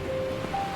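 Ocean waves in the video game NieR Re[in]carnation, turbulent sea around a drifting ship: a steady, rushing wash of surf with faint sustained tones layered over it, brief and continuous.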